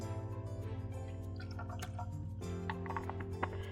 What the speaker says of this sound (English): And I am going to add about a cap full of vinegar.